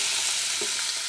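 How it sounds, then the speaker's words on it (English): Steady sizzling of chicken frying in hot oil in a pan, a continuous crackly hiss with no talking. "I'm going to fry it in a frying pan here."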